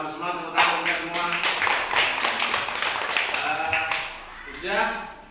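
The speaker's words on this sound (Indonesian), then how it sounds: "tepuk tangan untuk semua." Children clap their hands together in a classroom, a run of quick, close claps in uneven rhythm, with young voices chattering and calling out over and between the claps.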